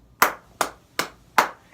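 Five sharp hand claps in a steady, evenly spaced rhythm, close and loud, with short decays and no voices.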